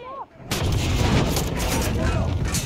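A tank cannon fires in the Far Cry 6 video game: after a brief quiet moment, one sudden, very loud blast erupts and rolls on as a sustained, heavy rumble of echoing thunder.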